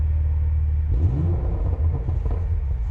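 A deep, throaty exhaust rumble from an idling Porsche Macan Turbo Performance Edition, stationary, steady and loud, swelling briefly with a low burble partway through.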